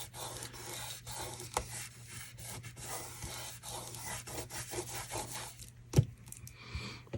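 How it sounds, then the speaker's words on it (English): Die-cut card paper is burnished down with repeated rubbing and scraping strokes, quiet and close, in an uneven rhythm with a sharper tap near the end. "just burnish it down really good"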